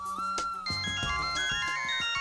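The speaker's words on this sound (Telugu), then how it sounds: "అమ్మో, డాడీ ఫోన్ చేస్తున్నారు" A mobile phone rings with a bright electronic melody of quick, rising and falling tones, played clearly on its own for a couple of seconds.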